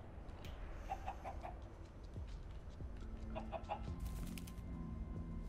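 A chicken clucks in the Minecraft: Story Mode video game, with two short bursts of rapid, nasal clucks standing out over steady background ambience.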